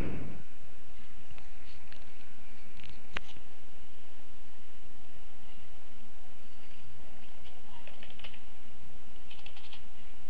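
Typing an email address on a computer keyboard during a web hosting and domain registration form, a steady run of soft key clicks at close range over faint background hiss, with no voices.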